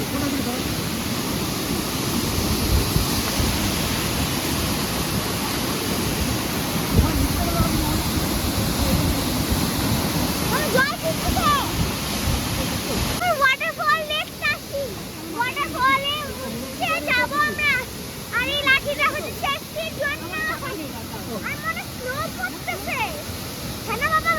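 The Changi waterfall roars as a dense, steady rush of falling water for about half the time, then sounds fainter beneath several people talking.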